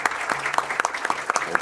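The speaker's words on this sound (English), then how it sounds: "Please join me in giving Dr. Al-Rawi a round of applause for the excellent presentation and Q&A." Audience applause following a public lecture by Dr. Al-Rawi on misinformation, surveillance and trolling, a short burst of clapping from a moderate crowd with a few sharper individual claps standing out.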